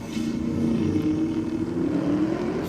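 Drag race pass at Sydney Dragway with a Datsun running against a VF Holden Commodore. Loud, sustained engine roar with a steadily rising pitch as the cars accelerate down the strip, nearby and unbroken, with no talk.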